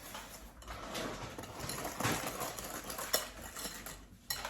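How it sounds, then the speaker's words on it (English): A metal whisk clinks and scrapes against a mixing bowl of creamed cookie batter with eggs as it is lifted out, soft close clatter with no speech. "I'm gonna remove the whisk."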